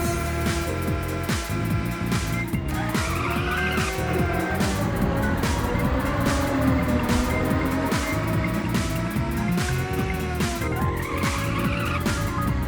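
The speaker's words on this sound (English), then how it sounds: "I actually managed a decent drift that time" A racing car in the Ridge Racer Type 4 video game drifts with a loud, continuous engine roar and repeated swelling tire squeals through the corner, with nothing else over it.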